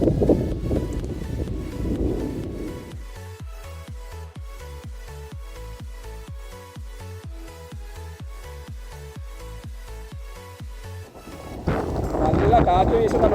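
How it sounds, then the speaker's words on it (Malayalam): Wind gusts along a mountain trekking path, roaring against the microphone at the start and again at the end, with a steady rhythmic pulsing filling the stretch in between. "നല്ല കാറ്റ് വീശുന്നുണ്ടോ, അതിൻ്റെ സൗണ്ട് കേൾക്കുന്നുണ്ട്."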